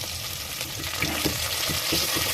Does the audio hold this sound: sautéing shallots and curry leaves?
yes